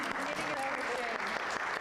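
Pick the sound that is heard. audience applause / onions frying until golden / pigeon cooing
audience applause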